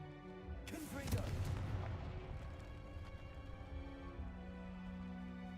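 A Confringo fire blast spell cast in Hogwarts Legacy bursts out with a sharp boom that rolls into a fading rumble over steady background music.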